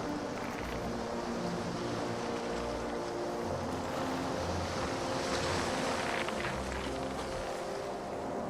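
Sailing ship at sea in the video game Caribbean Legend, with a soft continuous wash of waves and wind around the hull, faint and steady with no distinct events.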